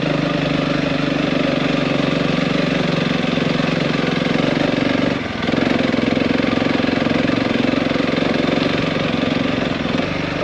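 An off-road motorbike runs steadily at a riding school beside a golf course, its engine a loud, continuous drone held at an even throttle, with one brief dip about halfway through.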